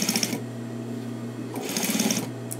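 A sewing machine stitches coats in a home studio, running in two close, loud bursts of fast rhythmic whirring with a steady motor hum between them.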